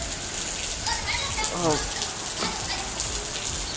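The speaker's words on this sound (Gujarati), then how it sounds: "બહુ જોરદાર વરસાદ આવે છે" Steady heavy rain hiss with a voice speaking briefly over the downpour.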